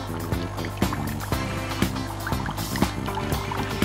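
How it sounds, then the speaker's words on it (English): A Genio S coffee machine pumps rinse water into a container, giving a close steady mechanical hum broken by regular pulsing clicks about twice a second. "Your Genio S will start rinsing."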